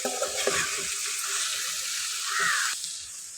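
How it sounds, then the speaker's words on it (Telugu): Boiled raw banana pieces are being stirred slowly with chili powder and salt in a frying pan, giving a continuous close sizzle with soft scraping and stirring noises and no talk. "ఇప్పుడు మనం ఉడకబెట్టుకున్న అరకాయ ముక్కలు హాఫ్ టీ స్పూన్ కారం సాల్ట్ వేసిన తర్వాత స్లోగా కలబెట్టండి"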